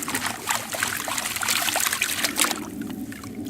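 Water sloshes and trickles continuously in a gold pan, close and moderately loud, with granular swishing as the pan is worked quickly.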